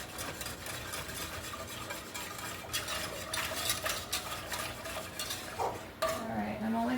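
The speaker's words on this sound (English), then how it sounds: "I'll whisk all that flour in there." A whisk stirs flour into a hot pan for chicken pot pie gravy, giving quiet, steady scraping and clinking strokes close by, with a faint sizzle underneath.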